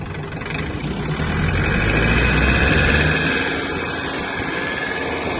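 A small Mitsubishi MT-26 mini tractor engine drones steadily at high revs, a loud continuous mechanical roar that eases slightly toward the end, with no voices.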